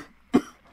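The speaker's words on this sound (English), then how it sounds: "Coughs." A single short, close cough in a quiet room, standing alone between stretches of talk about Halo Wars 2 beta stats.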